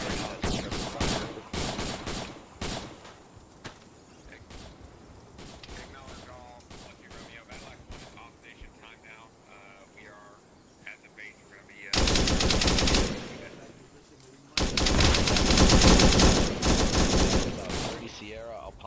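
A heavy .50 calibre machine gun fires in a Vietnam war video game: rapid staccato bursts at the start, a quieter stretch with faint battle noise, then two long, loud, sustained roars of fire.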